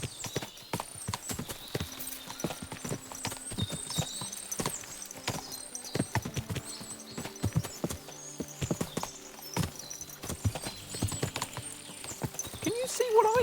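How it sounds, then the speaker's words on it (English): Horses' hooves clip-clop in a steady jumble of many overlapping footfalls across a medieval game world in Kingdom Come Deliverance 2, fairly close and continuous, with an occasional faint whinny mixed in. "What a lot of horses."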